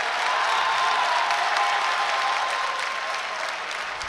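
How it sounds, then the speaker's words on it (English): A basketball crowd in Iowa City gives a standing ovation, a dense, loud, sustained wash of clapping that fills the arena and eases slightly toward the end. "These are the standing ovations from the crowd here in Iowa City."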